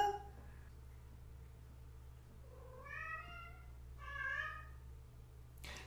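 A domestic cat meows twice in close succession, clear drawn-out calls rising and falling over a low steady hum, with a short sharp noise at the very end.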